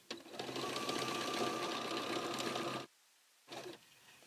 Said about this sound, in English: And I'm just going to stitch right over my original stitching.